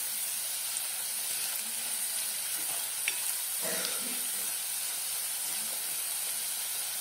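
Garlic, ginger and red chili powder sizzle in a pan for pav bhaji, a steady close hiss broken by a few scraping stirs of a spoon.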